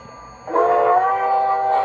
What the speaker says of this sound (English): is the whistle, and that's the crossing whistle.